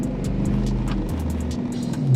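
A manual car being driven by a novice, its engine humming low and steady from inside the cabin, the pitch dropping as the revs change, with occasional ticking and a rise in rumble near the end.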